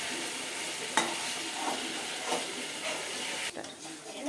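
Chicken stir-frying in a pan gives a steady, close sizzle with stirring scrapes over it and a brief pause near the end.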